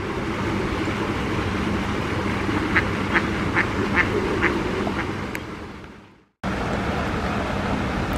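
A run of about seven quick duck quacks, moderately distant, at Queens Park, over steady outdoor wind and water noise that briefly cuts out.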